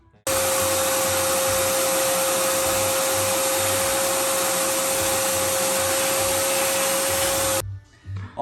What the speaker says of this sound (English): So I'm vacuuming myself.